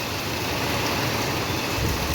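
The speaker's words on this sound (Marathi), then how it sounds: "हा काय पाऊस आहे" Heavy rain pours down steadily in Pune, a dense, continuous hiss of downpour close by with no break across the stretch and no voices.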